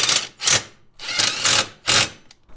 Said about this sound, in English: Once you get your holes drilled